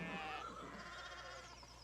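A sheep bleats in the Pentiment video game, a single quavering cry at moderate distance that fades over a couple of seconds, faint and alone without talk.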